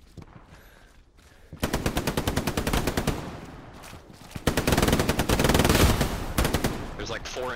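Machine gun fire in a World War II-style combat video game, long rapid bursts of automatic shots close and loud after a quiet opening, with a brief lull before a second sustained burst.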